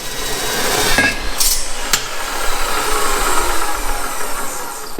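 A steel table leg is cut to length with a metal saw, a loud continuous mechanical whir and grinding hiss lasting throughout, with a sharp impact click partway through and no talking.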